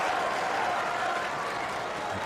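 A tennis crowd at the Cincinnati 2019 semifinal between Djokovic and Medvedev applauds and cheers for Medvedev, a dense, steady wash of clapping and voices filling the arena throughout.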